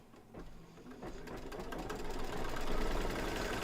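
An embroidery machine stitches down appliqué fabric on a Halloween wreath door hanging, a steady, rapid mechanical whirring and needle chatter that builds slightly in loudness and runs alone throughout.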